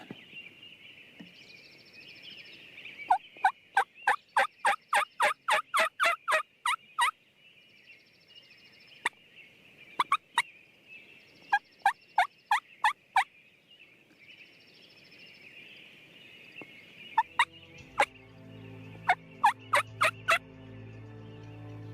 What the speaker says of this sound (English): There's a gobbler right here. That gobbler's back.